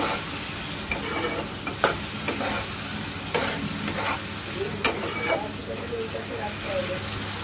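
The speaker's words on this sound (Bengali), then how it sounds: "দিয়ে আমরা এবার মশলাটাকে ভালো করে মিক্স করে নেব" A ginger, tomato and green chili spice paste fries in a pan, giving a steady close sizzle broken by repeated scraping stirs of a utensil against the pan.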